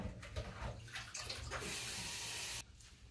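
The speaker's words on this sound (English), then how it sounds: "Now I'm going to rinse them under cold water." Cold tap water runs steadily over produce being rinsed in a kitchen, a continuous faint splashing hiss that cuts off sharply near the end, with no talking.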